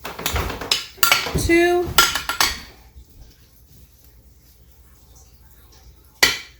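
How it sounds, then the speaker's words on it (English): Spoonfuls of garlic go into a bowl and get stirred, with sharp metal spoon clinks and scrapes in quick bursts, then a lull and one last clatter; a voice briefly counts. "we are going to take 4 spoons of these and just mix it in"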